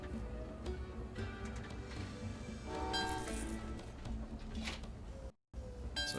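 Trains chug and sound their horns in the Train Valley 2 puzzle game, with tonal whistle blasts and rail clatter over a busy backdrop, then a brief moment of complete silence near the end.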